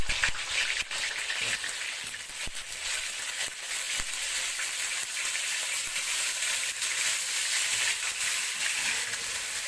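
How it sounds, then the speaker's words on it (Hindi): Seekh kebabs frying in a pan, giving a steady, close hiss and sizzle with occasional crackles and scrapes throughout. "ये सारे कबाब हम फ्राई कर लेते हैं, ऐसे ही फ्राई करेंगे।"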